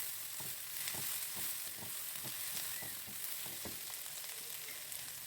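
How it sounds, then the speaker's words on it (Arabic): Onions sizzle and fry in a pan with a soft, continuous crackle, stirred at intervals. "وهدي تشويحه للبصل ده لحد ما يدبل"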